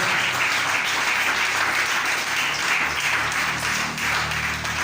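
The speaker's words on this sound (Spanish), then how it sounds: "Démosle un aplauso al Señor en esta mañana" A church congregation gives a sustained round of applause, a thick, even roar of many hands clapping that carries on steadily throughout, with no talking heard over it.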